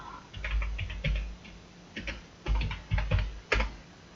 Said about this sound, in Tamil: ஸோ டைப் பண்ண ஆரம்பிச்சிடலாமா?